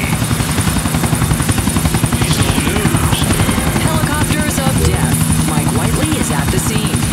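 Helicopter in GTA IV: The Ballad of Gay Tony, a steady loud rotor chop with engine whine running throughout, while someone speaks over it.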